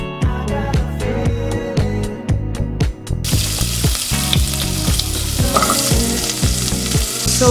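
Carrots, celery and onion fry loudly in a pot over high heat, a steady close sizzle with repeated rhythmic stirring scrapes and clanks throughout.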